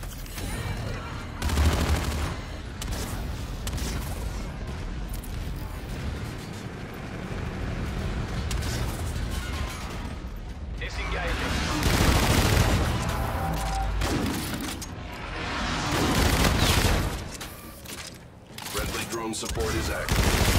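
Automatic and burst gunfire from the Call of Duty: Infinite Warfare beta rattles through a heavy firefight, rising and falling in dense waves with brief lulls between volleys.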